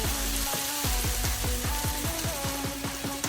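Food sautéing in a pan as the first step of a Filipino pork adobo, before garlic goes in: a steady, loud sizzle with crackles, overlaid by a regular rhythmic clatter of stirring or tapping against the pan.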